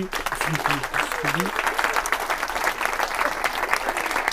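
Sustained audience applause at a superhero-themed comedy night, dense and steady throughout, with a brief voice near the start.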